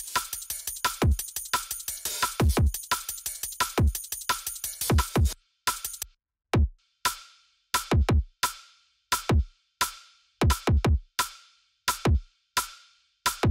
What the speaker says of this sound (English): kick and snare together, sounds something like this